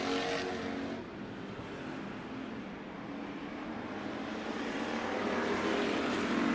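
Race cars roar around a dirt oval at Bakersfield Speedway, a continuous loud, broad engine drone with no clear breaks, swelling slightly as the cars pass.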